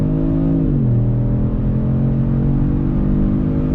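A 2020 Kia Stinger GT sedan accelerating, heard from inside the cabin: a loud, steady engine drone whose pitch dips briefly near the start as it shifts, then holds and builds smoothly.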